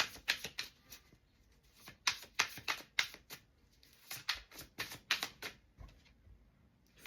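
Cards being riffle-shuffled close up, several quick papery bursts in clusters separated by brief pauses, with no voices.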